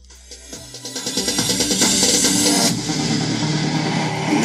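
NCS electronic music plays loudly from a Bluetooth speaker connected to a phone, a pulsing beat building up and holding steady and full, with no one talking over it.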